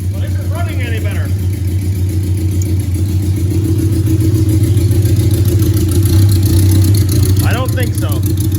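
A 40-year-old motorcycle engine runs roughly, a steady low rumble with uneven pulsing that swells slightly toward the end, and faint voices come through briefly near the start and end.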